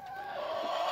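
Chickens on a small backyard farm give short, close clucks in a steady, busy stream, with no talking over them.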